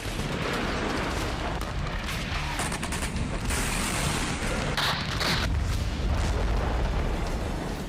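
A huge explosion at an arms depot hit by a Russian bomb, a continuous loud roar of booming blasts and rumbling secondary detonations with no talking.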